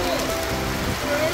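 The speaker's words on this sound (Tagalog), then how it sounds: "Ang lakas ng ulan." Heavy rain pours down on a campsite during a storm, a dense, even hiss of drops on surfaces that fills the short moment without a break.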